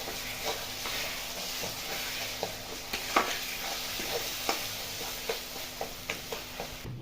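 A soft, fairly quiet sizzle of green peas filling frying in a pan, broken by repeated light scrapes and taps of a spatula stirring it, with no voices.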